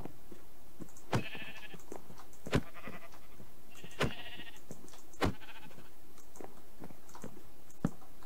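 Sheep in the Minecraft video game bleat several times in short, separate cries spaced a second or so apart, clear and close over a quiet background, with no talking.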